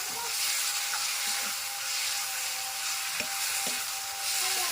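Meat frying in hot oil while being stirred, a continuous close sizzle with occasional scraping clicks from the spoon against the pan.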